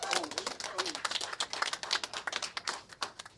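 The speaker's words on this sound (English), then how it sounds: "Let's give a round of applause for Julie Schneider from HRD" Audience applause for an official at a HUD funding announcement in Detroit, a crisp patter of individual hand claps, distinct and fairly sparse, distant and quiet, steady throughout.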